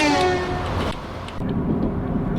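A diesel railcar in a train simulator video game rumbles along the Wherry Lines, a loud rolling drone with a brief horn-like tone at the start, then steady wheel and engine noise close by.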